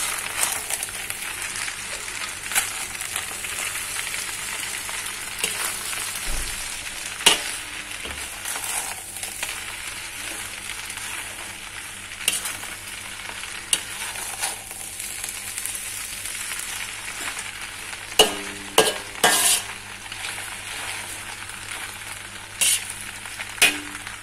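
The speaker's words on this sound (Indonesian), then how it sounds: "Kita aduk-aduk." Squid sizzles steadily in a hot oiled pan while being stir-fried, a continuous close frying hiss broken by occasional scraping and clacking from the stirring utensil against the pan.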